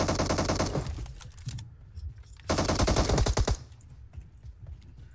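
Automatic gunfire in the video game PUBG rattles out in two long rapid bursts, loud and dense, separated by a brief lull with quieter background sound.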